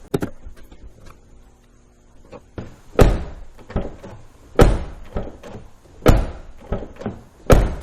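A door handle on a 2007-2014 GM car being worked, with the door opening and shutting in several solid thunks and slams spread through the clip, close and fairly loud, with quieter latch clicks in between.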